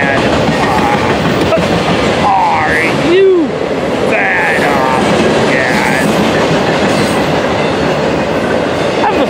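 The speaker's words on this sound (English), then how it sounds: "Freight train with one engine on it" A freight train hauled by a single engine, with cars that look like trailers, rolls past close by. A continuous loud rumble and clickety-clack of wheels carries a brief squeal, with a voice speaking over it.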